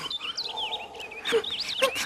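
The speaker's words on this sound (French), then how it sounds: "Ah, ça, c'est un roselin." A rosefinch sings a run of bright, warbling whistled notes with quick upward and downward slides, fairly near, over soft background ambience.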